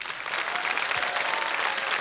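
A studio audience applauds as contestants leave a televised quiz game, a sustained, even roar of many clapping hands filling the whole stretch with no talk over it.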